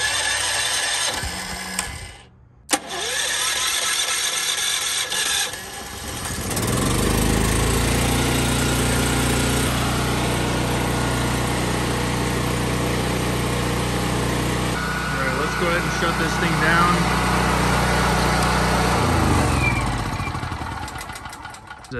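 A portable generator set to run on LP gas cranks, catches and settles into a loud, steady engine drone close by, its pitch shifting slightly as it runs.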